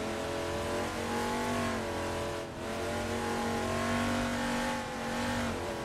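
A race car in the Assetto Corsa driving game, its engine droning loud and steady at high revs with a brief dip midway as it shifts or lifts, then pulling hard again, no talking.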